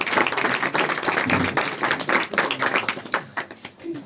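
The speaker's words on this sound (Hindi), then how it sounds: "तालियों से स्वागत।" Audience clapping to welcome Manish Kumar, a class 11 student, at a school New Year celebration, sustained dense applause filling the room for several seconds, fairly close and loud.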